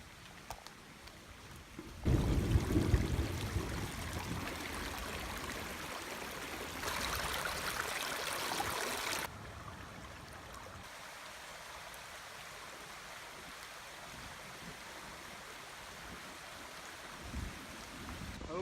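Rainwater rushing down a hiking trail like a small stream after a thunderstorm, a steady broadband gurgle and splash, louder and closer for a stretch near the start before settling to a constant flowing hiss.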